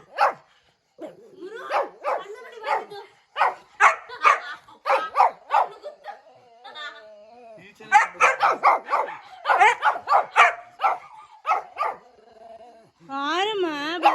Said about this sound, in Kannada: ಯಾಕೆ ಬೊಗಳುತ್ತ್ಯಾ